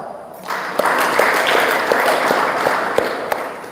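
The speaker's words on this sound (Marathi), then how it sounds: "या टीचर करता टाळ्या वाच" Steady applause from a school audience honoring a teacher at a Shivaji Maharaj Jayanti event, many hands clapping densely and evenly for several seconds with a few sharper claps standing out.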